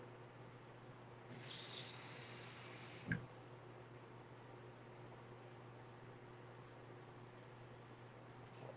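Tap water runs into a measuring cup for pancake batter in a home kitchen, a steady hiss lasting about two seconds that stops with a small clunk. A low appliance hum continues in the background.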